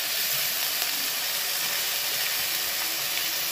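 Chopped tomato hitting a hot frying pan with onion and ginger paste gives a loud, continuous close-up sizzle and steamy hiss that holds steady with no pauses.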